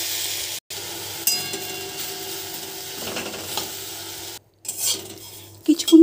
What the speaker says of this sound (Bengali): কড়াই গরম হয়ে গেছে, তেল ছাড়াই নিম পাতাগুলো ভেজে নেব।